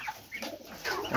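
Chickens and pigeons in a poultry coop on a small farm, a brief soft mix of low coos and clucks, fairly quiet and close.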